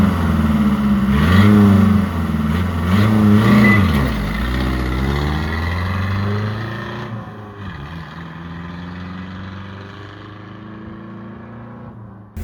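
1.6L VW diesel-powered Chevy S-10 pickup, a 54 hp engine, accelerating hard from 0 to 60, its engine drone rising through gear changes with pitch sweeps, then gradually fading into the distance over about twelve seconds.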